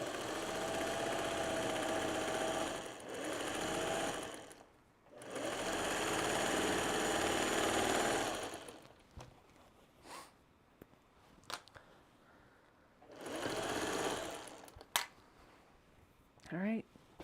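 A sewing machine piecing a quilt runs in two long, loud stitching bursts, then a few short bursts with quiet handling sounds between them.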